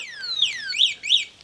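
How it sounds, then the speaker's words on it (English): An Eahora electric motorcycle's alarm system sounds a loud electronic siren: a long downward-sweeping tone followed by two rising-and-falling warbles, with no talking. "you do have an alarm system on it. So you can hit it, you can alarm it."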